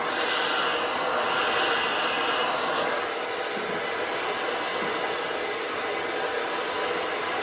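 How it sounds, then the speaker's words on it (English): A blow dryer roars steadily and close while styling hair with a brush for volume, a loud, even whoosh that shifts slightly in tone partway through as the airflow is moved. "you have to keep your brush and the blow dryer moving"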